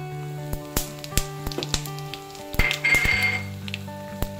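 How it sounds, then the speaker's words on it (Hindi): Tadka spices hit hot mustard oil with bursts of crackling sizzle and sharp pops, scattered clicks of a utensil, and a low steady tone beneath, the frying swelling midway and then easing. "तो ये ऑलरेडी गरम हो चुका है, तो अब इसमें मैं डालती हूँ ये तड़का।"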